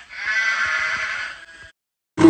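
A single long sheep bleat, loud and wavering with a buzzy tone, holds for about a second and a half, then stops before a short burst of a new sound at the very end.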